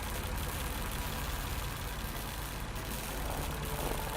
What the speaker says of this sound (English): Judging by the engine noise and the smell, there are diesel generators in this shed